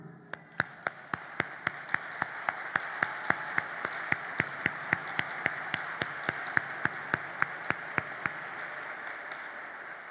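Audience applause at a 2024 university graduation ceremony at UNIFA: a steady wash of crowd clapping, with sharp, evenly spaced claps standing out near the microphone in a brisk regular rhythm for about eight seconds.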